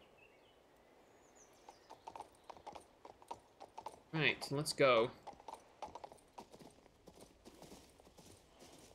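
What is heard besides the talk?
horse hooves in a video game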